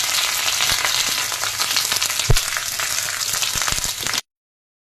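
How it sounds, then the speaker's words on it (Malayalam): Onion, ginger, garlic and green chilli sauté in hot oil with a bright, dense sizzle close up, a sharp stir clatter midway, and then the sound cuts to silence near the end. "ഇത് ഗോൾഡൻ നിറമാവുന്നത് വരെ വഴറ്റുക."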